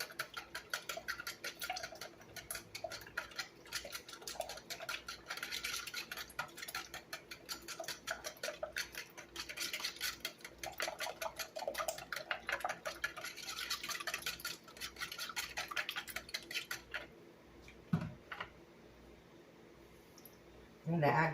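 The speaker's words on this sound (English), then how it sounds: "we're going to beat our eggs just like you would if you were scrambling eggs" Eggs beaten by hand in a bowl for egg bites, a rapid steady run of clicking whisk or fork strokes against the bowl lasting most of the stretch before stopping, with a few clatters near the end.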